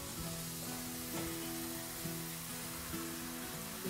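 Venison burgers sizzle steadily in a hot pan, a constant crackling hiss with a faint electrical hum underneath and no talking.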